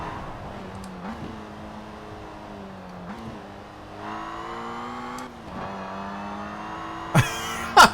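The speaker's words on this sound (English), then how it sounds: "That supercharger whine. That sounds crazy." A supercharged classic Citroen DS in the Forza Horizon 4 racing game carries a steady, thin mechanical whine over the engine note, with pitch shifts as it changes speed and a couple of sharp bursts near the end.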